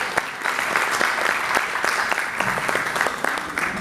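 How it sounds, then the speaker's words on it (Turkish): An audience breaks into sustained applause at a gathering, with sharp individual claps scattered through a steady, moderately loud wash. "Bu yine Mine ablaya bir özel alkış istiyorum."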